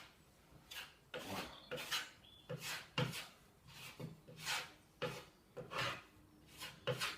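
A filling knife scrapes filler over screw holes on plasterboard in repeated rasping strokes, each about half a second long, in a steady rhythm. One short spoken word is heard.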